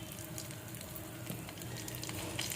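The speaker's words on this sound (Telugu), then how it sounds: "1 స్పూన్ నేతిలో కాజు, బాదం, ఇలాచి అన్నీ వేసి డ్రై ఫ్రూట్స్ అన్నీ వేసుకుని చక్కగా ఫ్రై చేసుకుని" Cashews, almonds and cardamom fry in a spoonful of ghee with a soft, continuous sizzle and a few faint stirring scrapes, heard up close and alone.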